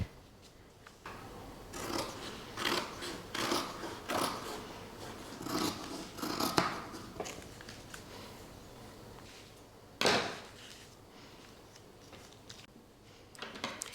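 Scissors cutting dress fabric on the bias at a table, a run of close, crisp snipping and rustling strokes, then a quieter pause and another sharp cut near the end, without talk.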